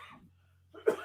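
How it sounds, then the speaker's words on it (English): A single sharp cough bursts out close to the microphone after a brief quiet pause, loud and abrupt, with some breathy rasp leading into it. "I'm still getting over this cough"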